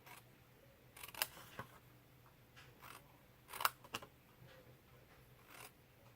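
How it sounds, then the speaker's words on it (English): A few sharp scissor snips cut through paper, spaced irregularly, quiet and close, with near silence between cuts. "now we're going to take our scissors and we're going to cut on these edge pieces"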